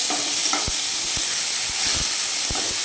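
Mustard-poppy paste with green chilli paste and a ripe tomato being stirred and fried in a pan, a steady sizzle and hiss with a few soft scraping stirs at an irregular pace, close and continuous, no talking.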